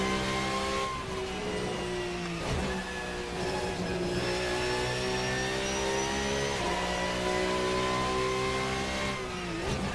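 A GT3 race car in a racing sim, engine held at a steady high rev with harmonic tones sliding up and down through shifts, loud and continuous throughout, with brief tire squeal and no talk.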